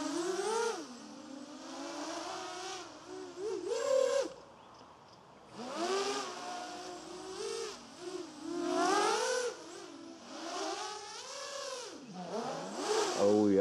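A QAV-R FPV quadcopter flies line of sight, its motors whining in rising and falling pitch sweeps as it accelerates and throttles back, loud and close with brief quieter dips.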